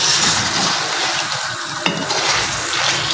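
Chicken biryani masala frying and being stirred in a pan over high heat, a close, steady sizzle with spoon scrapes and a brief sharp clink.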